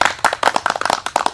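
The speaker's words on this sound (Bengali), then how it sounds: "হাততালি" An audience claps in a quick, uneven patter of separate hand claps, fairly loud and close, as a crowd answers a cue at a comic stage skit.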